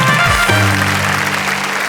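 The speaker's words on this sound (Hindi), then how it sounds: "लखन, संदेश और आतिश के लिए एक बार जोरदार तालियां" Applause from the audience at a Hindi poetry recital, brief and fairly loud, rising over sustained low musical tones that carry through the whole moment.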